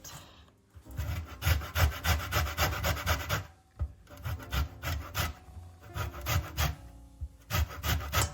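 Lemon zest is grated in a quick series of rhythmic rasping strokes, with bursts of scraping separated by short pauses, close and clear with no talk.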